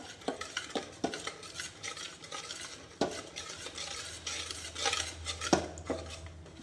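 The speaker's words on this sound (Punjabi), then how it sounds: "ਹੁਣ ਇਹਨੂੰ ਆਪਾਂ ਚੰਗੀ ਤਰ੍ਹਾਂ ਹਲਾਈ ਜਾਣਾ ਇਸ ਤਰ੍ਹਾਂ ਹਲਾਈ ਜਾਣਾ ਤੁਸੀਂ ਲਗਾਤਾਰ ਹਲਾਵਾਂਗੇ ਇਹਨੂੰ" Besan barfi mixture stirred in a pan, a spoon scraping and clinking against the metal in irregular strokes, with a faint sizzle underneath; no voices.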